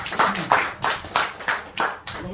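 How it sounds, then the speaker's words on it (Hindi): A small audience at a talk welcomes a speaker with clapping that comes in about seven loose, rhythmic bursts of hands, close and moderately loud, with no speech over it. "तालियों के साथ स्वागत किया"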